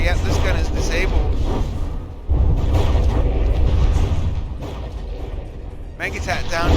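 Heavy artillery booms and shell impacts pound a battleship gun in the naval combat game From The Depths, dense and continuous under a talking commentator.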